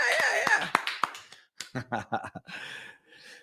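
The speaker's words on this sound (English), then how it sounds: "More virtual claps." Scattered clapping from a small audience at a livestreamed living-room charity event, bursts of claps between cheering voices, fairly close and moderately loud.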